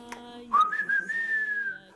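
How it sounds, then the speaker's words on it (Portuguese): A single person whistles a short rising tune, one clear sustained melodic note sliding upward and holding, close and fairly loud with no talk over it. "É ali que apareceu este assobio."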